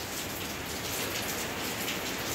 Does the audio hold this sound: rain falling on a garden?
yes